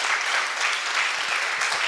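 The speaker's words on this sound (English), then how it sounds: "Can you give these folks a big round of applause?" Sustained applause from a town hall audience, steady clapping throughout at close range with no talk over it.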